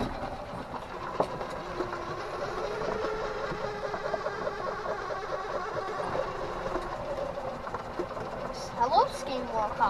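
A golf cart drives along with a steady rumbling motor and rattling, clicking ride noise that runs continuously and fairly close, with voices talking over it.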